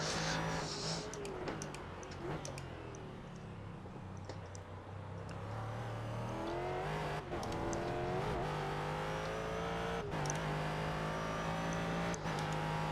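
GT race car engine in the iRacing simulator, a continuous loud drone that rises and falls through upshifts and downshifts, revving and easing as the car takes corners, with no talk over it.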